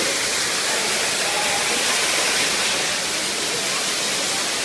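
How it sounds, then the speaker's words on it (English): A waterfall at a bird park pours in a loud, dense, unbroken rush that fills the whole scene, with no voices rising above it. "Ah, water, guys. Waterfall."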